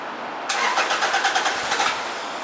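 A turbocharged 2ZZ-GE engine in a Toyota MR-2 cranks briefly and catches, settling into a loud, steady close-up idle with a quick rhythmic pulse.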